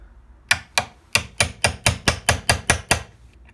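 Steel 1/8 inch punch hammered to drift a pin back into a Remington 760 Gamemaster bolt carrier held in a vise: eleven sharp, evenly spaced metallic taps, close and clear, with no talk.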